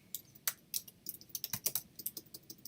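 Someone types a blog comment on a computer keyboard, a quick irregular run of close, crisp key clicks with brief pauses, heard alone without talk.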